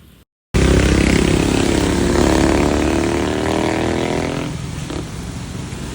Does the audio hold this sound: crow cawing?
no